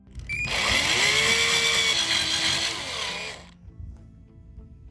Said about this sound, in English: there you can see where I want to drill the next hole.